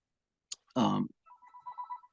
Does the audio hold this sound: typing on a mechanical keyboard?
no